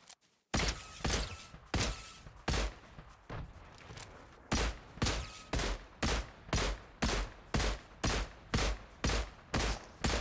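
Weapon fire from a slow-firing gun in Fortnite rings out as a regular series of sharp, loud shots, about a dozen evenly spaced, each with a brief ringing tail and short gaps between.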